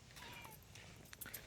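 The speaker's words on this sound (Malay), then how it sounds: "Ini ada suara kucing." A cat meows a few times near a beach in a Malaysian village, faint and brief over a steady outdoor background hum.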